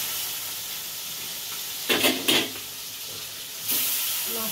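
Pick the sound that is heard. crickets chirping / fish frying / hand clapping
fish frying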